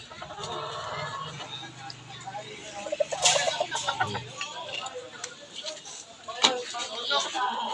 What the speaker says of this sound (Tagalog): Lalakas kumain itong mga manok, mga bro.